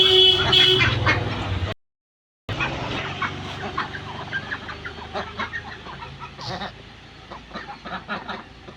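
Farm ducks quack as they come out of their pen beside cattle and goats. Loud calls open the clip, then after a brief dropout a scattered run of quacks and clucks continues at moderate distance.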